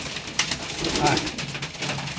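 Chocolate grizzle pigeons in a loft give soft, intermittent coos beneath close, ongoing talk.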